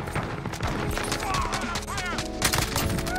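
Rapid automatic fire from an AUG rifle in Modern Warfare, dense bursts of sharp gunshots with overlapping explosions and game effects, loud and continuous.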